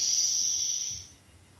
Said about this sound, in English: So breathing in through your nose,